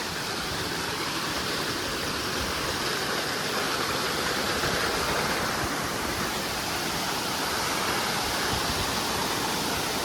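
Avyarud waterfall in Astara roaring steadily and evenly, a dense broadband rush of falling water close by, continuous and unbroken with no voices.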